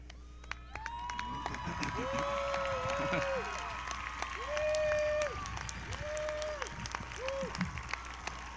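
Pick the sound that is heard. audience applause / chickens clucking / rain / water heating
audience applause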